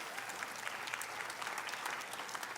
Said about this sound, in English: I'd like you all to give a round of applause to Lisa Siegel and Trudy Slade,